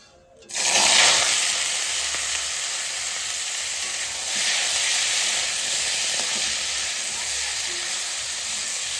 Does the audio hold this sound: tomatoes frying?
yes